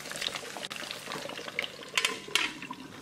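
Frozen Alaskan sockeye salmon deep-fries in a fryer basket in oil at 375 degrees, a steady close bubbling sizzle with scattered sharper pops and crackles.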